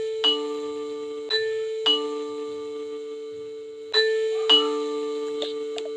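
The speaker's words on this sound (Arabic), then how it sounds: "يلا نرن الجرس." A two-tone doorbell chimes several times in a quiet indoor setting, each ding-dong ringing out sharply and decaying with a clear sustained tone, with pauses between presses.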